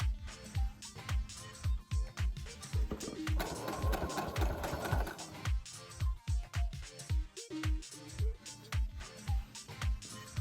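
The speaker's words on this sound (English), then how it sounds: "Next, I sewed the sleeves onto the body pieces" A sewing machine stitches sleeves onto the body pieces of a cosplay shirt, running in steady rhythmic bursts of rapid needle clatter with short pauses between runs, close and clear.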